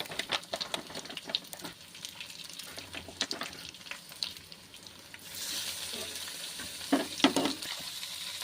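Rohu fish frying in a pan for a fish curry, with scattered sizzle and stirring clicks at first, then a louder, steady hiss of hot oil, close and moderately loud.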